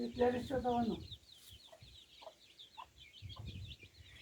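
Farm chickens cluck close by in short, repeated clucks spaced through the clip, following a burst of speech at the start, with faint bird chirping behind.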